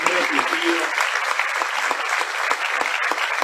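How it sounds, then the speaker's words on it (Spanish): An audience at a political rally in Miranda, Venezuela, applauding deputies with steady, dense clapping that continues unbroken throughout, loud and full, while a voice talks underneath. "aquí les pido por favor un aplauso a todos nuestros diputados"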